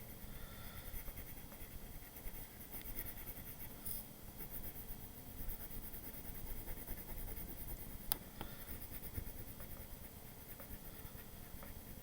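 A pencil colors heavily over paper, shading an area dark with a steady, faint scratchy scraping that continues throughout with no pauses.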